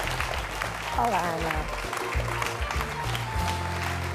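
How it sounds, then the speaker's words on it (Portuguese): Studio audience applause welcoming a guest on a television talk show, clapping running beneath a host's voice as she greets the guest, steady and moderately loud throughout. "Um grande aplauso para a Ana Sofia Paiva"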